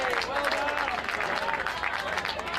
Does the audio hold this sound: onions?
no